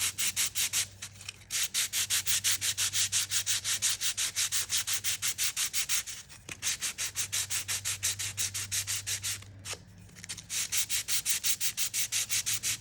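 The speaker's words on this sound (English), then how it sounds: "sanding with the grain." A wooden coaster is sanded by hand with the grain, giving steady rapid back-and-forth scratchy strokes, loud and close, with two brief pauses between bursts.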